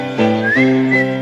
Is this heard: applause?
no